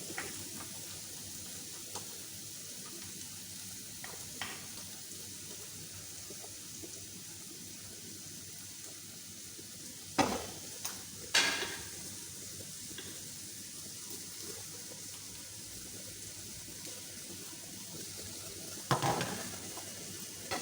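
Carrots and garlic fry in a pan with a soft, steady sizzle, and a few louder stirring clatters break in near the middle and toward the end.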